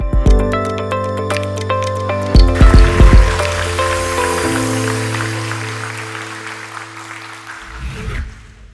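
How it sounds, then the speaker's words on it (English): Audience applause at a leadership conference talk on artificial intelligence, a steady wash of clapping building and holding for several seconds beneath loud walk-on music with sustained tones. "with a round of applause, please welcome Dale Lutz."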